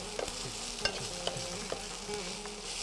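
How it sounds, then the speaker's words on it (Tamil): Tomatoes stirred in a pan with a steady background sizzle of frying and occasional spoon scrapes and taps against the pan, no talking. "தக்காளி ரொம்ப வதங்கணும்னு அவசியம் இல்லை."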